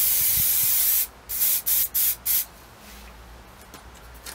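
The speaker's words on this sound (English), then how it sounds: "Once you've finished spraying, turn the can upside down and spray until it runs clear." An aerosol spray paint can hisses in four or five short, sharp bursts with brief gaps between them, then falls quiet, close by during a restoration paint job.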